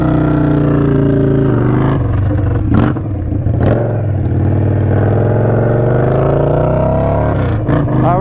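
Indian Scout Sixty motorcycle fitted with a 2-into-1 exhaust, ridden on the road: a loud, steady engine drone with rising and falling revs through gear changes, close and continuous throughout.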